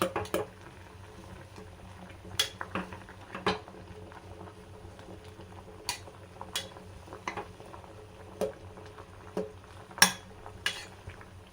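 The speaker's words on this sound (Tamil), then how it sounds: "நல்லா கொதிக்குது பாருங்கள்" A pot of drumstick leaf kashayam, an herbal decoction, simmers quietly with soft bubbling and scattered light pops, clinks and pot sounds over a faint steady hiss.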